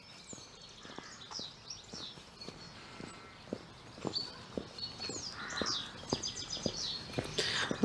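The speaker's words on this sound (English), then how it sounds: "Listen to the birds." Birds chirping and calling by a park, light, scattered tweets over quiet ambience, with soft footsteps and occasional knocks close by.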